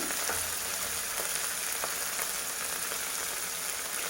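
Onions with ginger garlic paste fry in a pan, a steady bright sizzle and crackle that stays loud and even for the whole stretch with no voices over it.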